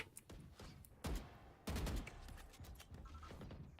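Rapid bursts of gunfire from a Rainbow Six Siege match on the Hookah side of the map, with sharp shots clustered near the start and a heavy volley in the middle, set against busy game noise.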